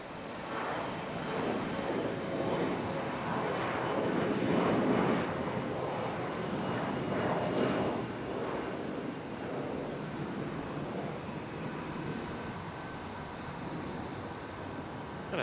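A Delta jet airliner lands at Charlotte Douglas airport, its broad engine roar steady and fairly loud for the whole stretch, with a slight swell in the middle and no voices.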